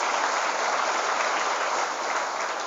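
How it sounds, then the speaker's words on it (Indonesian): Dense, steady applause from a large crowd of Islamic boarding school students at a motivational event, loud and continuous throughout with no gaps and no talk over it. "Tepuk tangan untuk kita semua."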